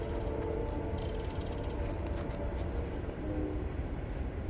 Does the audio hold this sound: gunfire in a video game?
no